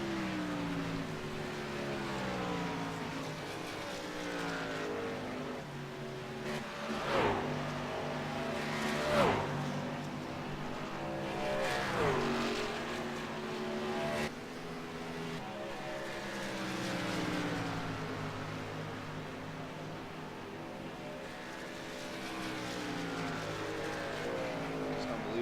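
Race trucks of a truck series lapping Darlington Raceway, engines droning and revving with rising and falling pitch as they pass, fairly faint and continuous, with commentary voices over the top.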